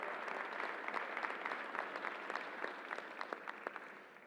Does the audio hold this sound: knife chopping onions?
no